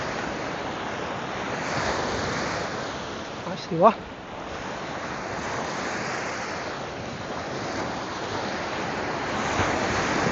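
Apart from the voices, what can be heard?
waves on a lakeshore, like the sea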